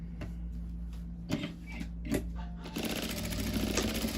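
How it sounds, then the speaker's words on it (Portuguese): An industrial sewing machine stitches fabric for a butterfly doll at a small seam allowance; a few soft knocks come first, then a continuous close rapid mechanical hum of stitching fills the second half. "eu vou estar costurando aqui"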